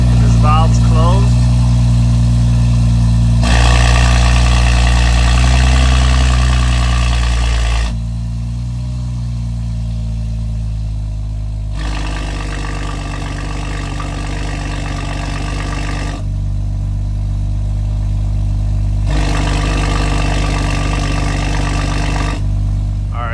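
A BMW M240i with an aftermarket exhaust idles with its exhaust valve closed, a loud steady low rumble close by that shifts in tone between sections while a person talks over parts of it.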